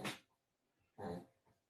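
Dog at home at night giving two short growling barks, a sharp one and then a longer rough one about a second later, quiet and a little distant.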